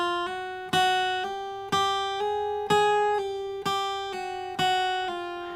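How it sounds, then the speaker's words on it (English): Guitar notes played up a chromatic scale on the top string using hammer-ons and pull-offs, six clear plucked attacks each followed by a smooth legato second note, evenly paced, close and alone with no talking. "we're going to incorporate hammer-ons and pull-offs, which sound like this."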